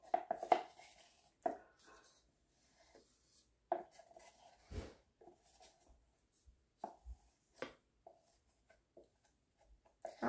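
Homemade chalk paint is stirred in a container, giving sparse, close scraping and tapping sounds in irregular bursts separated by near silence.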